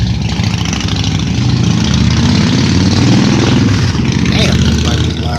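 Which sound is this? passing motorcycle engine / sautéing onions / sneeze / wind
passing motorcycle engine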